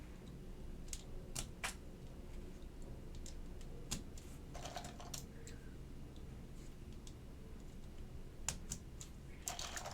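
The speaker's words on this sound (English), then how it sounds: "Let's put some more switches in here." Alps SKCM White switches are pressed into a keyboard, producing sparse sharp clicks and snaps at irregular intervals, close but quiet against a soft background hiss, with no talk.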